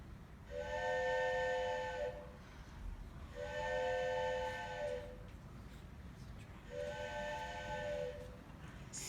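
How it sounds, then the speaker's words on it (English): Three long steam-train whistle blasts, each lasting about two seconds, with hissing background in between; moderately distant. "What she heard was the sound of a train whistle."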